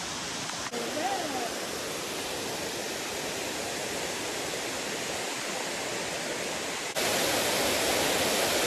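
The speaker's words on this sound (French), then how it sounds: "on vient d'arriver devant une super cascade" Waterfall cascading near the Takamaka dam on the Rivière des Marsouins, Réunion, after a half-hour hike: a steady, loud, broadband roar of falling water that fills the whole stretch, growing stronger toward the end, with a brief voice early on.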